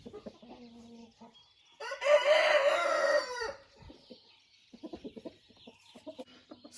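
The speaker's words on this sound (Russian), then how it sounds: "Курочка несется, а яиц ее я не вижу." A laying hen clucks loudly and insistently in a backyard poultry enclosure, a burst of repeated calls lasting under two seconds, with softer scattered clucks before and after.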